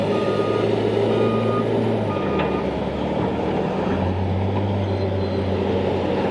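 JCB 434S wheel loader scooping and dumping sugar beet, its loud diesel engine rumbling and shifting pitch under a heavy load, with reversing beeps sounding at intervals.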